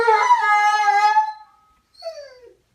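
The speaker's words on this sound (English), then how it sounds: "Are you howling?" A dog howls in an apartment: one long, wavering, rising-and-falling howl of more than a second, then a short pause and a brief, softer whimpering yip that slides downward. No one speaks.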